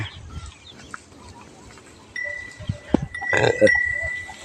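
Pankdi cows call out close by, a few short lowing sounds with a bell clinking, outdoors in the evening and otherwise fairly quiet.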